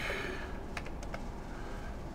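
A few quick, faint keystrokes on a computer keyboard, heard close against a quiet room background.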